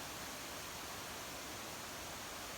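Wilson Creek flows close beside a backcountry campsite with a steady, even rush of water that holds without a break and has no voices over it.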